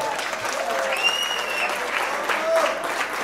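Steady applause from a wedding audience in Stavropol welcoming the clarinetist, dense and continuous throughout, with faint voices and whistles mixed into the clapping.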